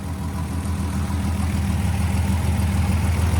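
A rebuilt VR6 GTI fitted with a new exhaust idles steadily, giving a deep, even low-pitched rumble that holds at a constant level throughout with no voices.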